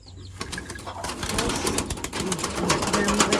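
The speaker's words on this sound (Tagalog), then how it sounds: "Yan guys, yung mga kalapati ko guys." Pigeons coo softly close by, with rustling and faint background noise rising over the few seconds.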